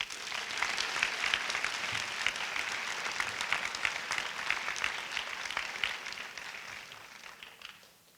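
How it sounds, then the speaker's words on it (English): Steady audience applause, many hands clapping together at full volume, tapering off slightly near the end. "Let's give a round of applause."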